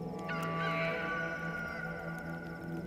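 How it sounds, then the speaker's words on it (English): A rooster crows once, a loud, close, drawn-out call lasting a few seconds with no voices around it. "A second time, the rooster crowed."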